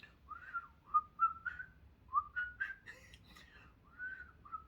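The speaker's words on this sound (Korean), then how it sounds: "휘파람을 이렇게 이제 불게 되는데" Someone whistles a few short, wavering phrases, soft and breathy, with small pauses between the notes.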